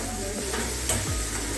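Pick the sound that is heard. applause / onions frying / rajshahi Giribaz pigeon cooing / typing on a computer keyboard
onions frying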